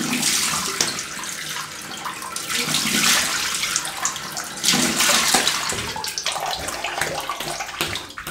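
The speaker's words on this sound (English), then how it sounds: "So cold water rinse." Cold water runs steadily from a tap for a rinse after shaving, a continuous hissing splash that rises and falls slightly as hands move through the stream, close and alone without talk.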